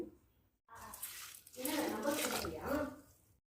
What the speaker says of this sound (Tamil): முழுகிற அளவுக்கு தண்ணி போட்டுட்டு வடிகட்டிடுங்க